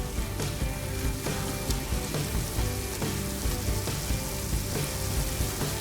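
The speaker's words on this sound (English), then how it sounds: "Just cook those peppers off a bit in all that goodness that's down there with the ghee, with the fat from the bacon" Peppers frying in ghee and bacon fat in a pan for chili con carne, a continuous close, loud sizzle with crackling pops and occasional stirring scrapes throughout.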